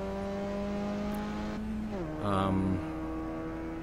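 A Mazda race car in the iRacing simulator holds a steady, sustained engine drone, with a brief shift in pitch and a short burst of louder tire and engine noise partway through, alone without talk.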